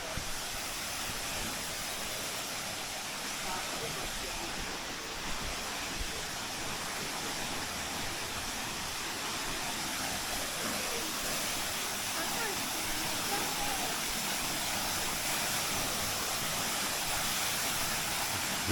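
A waterfall roars with a dense, unbroken rush of falling water, loud and close for the whole stretch, with no clear voices over it.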